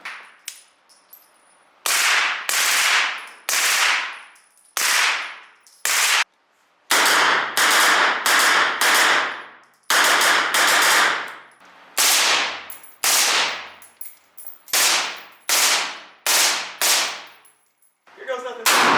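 A Franklin Armory rifle fires full auto at an outdoor range in Reno, with loud, close, rapid strings of shots that ring and echo between short pauses.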